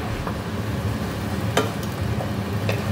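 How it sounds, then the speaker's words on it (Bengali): Food frying with green chilli, dried chilli and nigella seeds is stirred in a pan, a soft continuous sizzle broken by a few brief scraping stirs. "তারপরে কাঁচা লঙ্কা শুকনো লঙ্কা আর কালো জিরে ফোড়ন দিয়ে এটাকে নেড়ে নিচ্ছি।"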